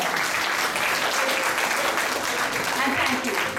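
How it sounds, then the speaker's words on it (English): Audience applause at a South Asian heritage celebration held by the Arya Samaj, a dense, steady clatter of clapping that fills the space throughout with a few voices mixed in. "give yourselves a big round of applause"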